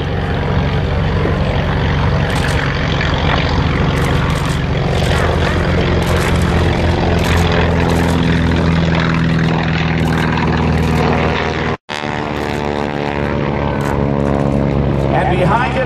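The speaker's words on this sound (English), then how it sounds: "Another big, nearly a 1900 horsepower radial engine." A large radial-engine propeller airplane of nearly 1900 horsepower flies past at an air show, its loud, steady droning roar filling the air with a rich harmonic hum and a brief cutout near the end.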